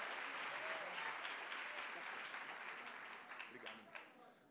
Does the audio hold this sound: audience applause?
yes